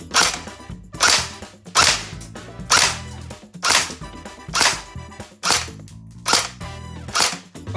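An S&T Tavor-21 airsoft bullpup rifle fires semi-auto at a target: ten sharp snapping shots at a steady rhythm of roughly one per second, close and crisp, with no talk.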